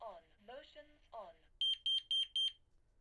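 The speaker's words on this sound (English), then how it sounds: "And that beeping is just an exit delay." An Interlogix Simon XT alarm panel sounds its exit delay, four sharp, evenly spaced electronic beeps close by, following a synthesized voice announcing the arming settings.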